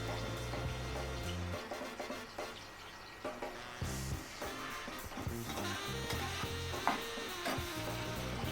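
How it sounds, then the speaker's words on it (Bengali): Cubed white bread frying in a pan for an egg-bread breakfast hotchpotch, giving a steady close sizzle broken by stirring scrapes over faint background music. "দিয়ে একটু ভাজা ভাজা করে নিই"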